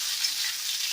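Mixed chopped vegetables sizzling in a pan while being stirred for chilli chicken, an even close hiss throughout the short moment, no voices.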